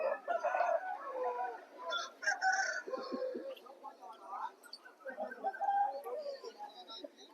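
Rooster crowing at a country chicken market in Vijayawada, where roosters are sold, with several crows and clucks from nearby birds over busy market bustle and people talking in the background.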